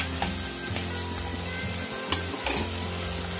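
Eggplant sautés in a frying pan with oil, giving a steady, close sizzle and frying hiss, with a few light knocks of a utensil stirring against the pan and no voices.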